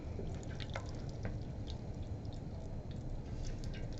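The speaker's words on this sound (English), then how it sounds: "Once the oil is hot and the butter is bubbly, sounds pretty bubbly to me" Olive oil and butter heating in a medium saucepan over medium heat fizz and crackle steadily, with scattered small pops across a dense sizzling bed.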